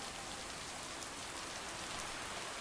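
Steady rain falls in the farming video game Lake, a dense, even hiss of drops filling the whole stretch with no voices or other sounds over it.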